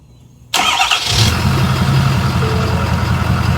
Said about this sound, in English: it starts right up just because the fuel already got to the engine